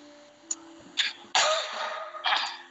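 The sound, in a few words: coughing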